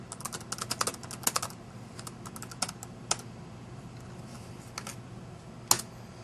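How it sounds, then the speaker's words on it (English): Rapid keystrokes on a computer keyboard while a web address is entered, clustered clacking bursts with short pauses between, close and fairly crisp, no talking. "Let's type the URL correctly."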